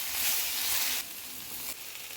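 Peanuts, garlic, curry leaves, coriander and cumin frying in a hot pan for tomato chutney, a close, bright, continuous sizzle that drops in level twice as the mixture is stirred.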